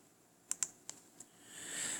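Keystrokes on a Bluetooth keyboard paired with a tablet: four light, distinct taps spaced irregularly over about a second, quiet and close, followed by a soft rising hiss.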